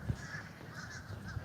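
Crows caw outdoors as a flock of birds flies away, with repeated faint harsh calls at a moderate distance and no speech.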